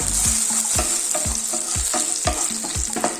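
Coriander seeds and black pepper roasting in a pan, a constant dry sizzle punctuated by regular scraping strokes of a spoon stirring the spices, close and loud.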